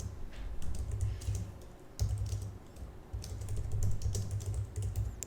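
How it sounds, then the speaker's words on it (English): Steady typing on a computer keyboard while entering heading text for a CSS web design, a quick continuous patter of close key clicks with a brief pause around the middle. "let's type the text"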